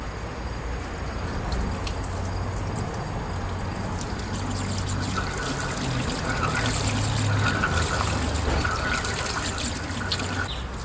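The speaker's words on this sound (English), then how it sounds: "Now I'm going to crack the hose on and off a couple times to pressure flush any stuff out of the block" Garden hose water flushing a jet boat engine block, a steady, close, hissing gush and trickle that runs without a break and with no one talking.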